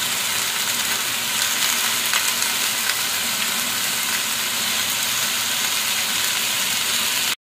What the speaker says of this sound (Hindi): हलदी आ लुण पकईकि फ्राई कर